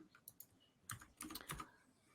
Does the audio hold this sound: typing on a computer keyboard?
yes